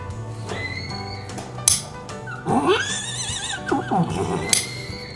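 A horse whinnies twice in rising, quavering calls, with soft shuffling and a few sharp taps around them.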